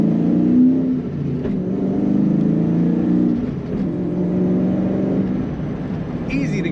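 A 2001 Ford Mustang Sean Hyland Motorsports edition with a 6-speed manual gearbox accelerating on a highway, a steady mid-pitched engine drone that rises and dips through the gears, heard from inside the cabin.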